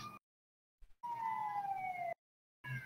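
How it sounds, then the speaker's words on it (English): An ambulance siren from the FiveM mod of GTA V sounds in two bursts separated by silence, the longer one a steady, slowly falling wail, fairly quiet in level. "An ambulance this time."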